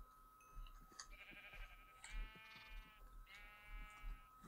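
Sheep bleating in a video game, several drawn-out bleats repeating over a steady low electronic hum, fairly close and clear, with no talking.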